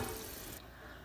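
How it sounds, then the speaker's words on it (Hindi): About 3 litres of water is poured into a cooking pot of vegetables, a steady rushing splash close by that cuts off partway, leaving a quieter wash of water. "अब यहाँ पे मैं तकरीबन 3 लीटर पानी शामिल करूँगी।"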